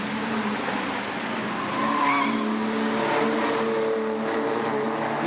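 BMW E30 race cars racing at Pukekohe circuit in New Zealand, engines droning loudly and continuously with tire squeal, several cars passing close and holding a steady roar throughout.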